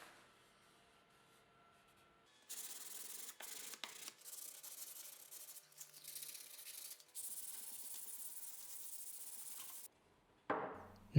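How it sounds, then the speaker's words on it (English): Sanding varnished pine wood by hand with P320 grit sandpaper, brisk rhythmic scratchy strokes close up in several bursts, with brief pauses and quiet gaps between passes. "I applied 3 coats, sanding them with P320 grit between each coat"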